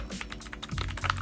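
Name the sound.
typing on budget mechanical keyboard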